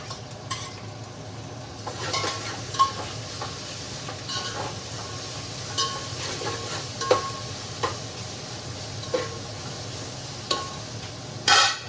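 Onion, chili, peas, mint and ginger-garlic paste fry in oil for baghara rice, giving a steady sizzle with occasional sharper scrapes and clinks of stirring. It is fairly close and no one speaks.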